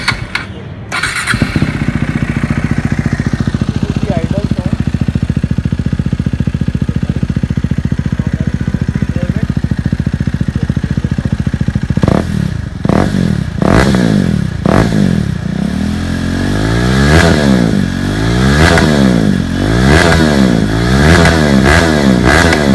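A KTM RC390 motorcycle fitted with an Akrapovic exhaust cranks, catches and idles loudly up close, then is blipped through a series of sharp revs that rise and fall rhythmically.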